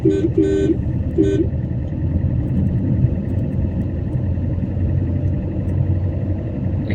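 A car horn gives three short toots near the start, two quick then one more, while the car takes a bend, over a steady engine rumble that continues to the end.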